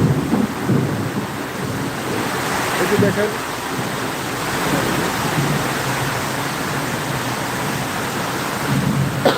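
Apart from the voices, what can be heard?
heavy rain and thunder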